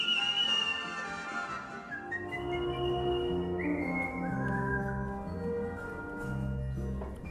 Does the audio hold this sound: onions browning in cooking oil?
no